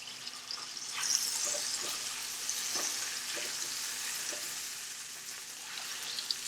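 A mini curry beef pie frying in a pan, a soft, steady sizzle with faint crackles and small pops throughout, quiet and close, with no voices.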